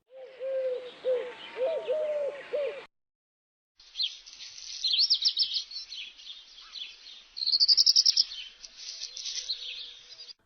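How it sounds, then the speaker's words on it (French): Several bird songs in sequence: a low cooing phrase from a Eurasian collared dove first, then after a pause bright, high warbling and scratchy phrases from a black redstart, fairly close. "Le rouge-queue noir."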